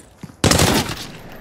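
A burst of automatic gunfire in the video game Arena Breakout Infinite: a sudden loud rapid volley of shots that fades into a short echoing tail after a quieter shot just before.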